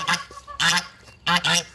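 Geese honk loudly and close at a backyard garden where they and chickens are being fed fresh vegetables, with three quick bursts of harsh, nasal honks in a row.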